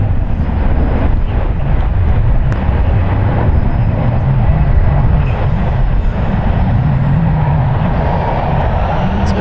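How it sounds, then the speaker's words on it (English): A Boeing 777 airliner takes off from San Francisco International Airport, a loud continuous jet roar with heavy low rumble that holds steady throughout, heard from a distance without talk. "just as that 777 departs"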